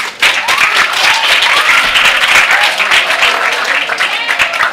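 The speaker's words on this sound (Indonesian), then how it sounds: "Tepuk tangan untuk kita semua." Audience applause at a school event in Jakarta, a dense, loud burst of many hands clapping that holds steady for several seconds and then begins to thin.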